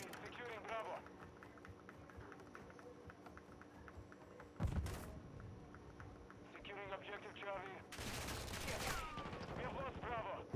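Gunfire in a Modern Warfare II Domination match, with a sharp burst near 4.7 seconds and a loud, dense volley around 8 to 9 seconds, over steady in-game ambience with voices mixed in.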